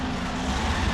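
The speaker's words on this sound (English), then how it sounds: "So here, I'm turning the engine on." A tank engine starts up in the game Men of War: Assault Squad 2, producing a continuous, fairly loud low rumble with no speech.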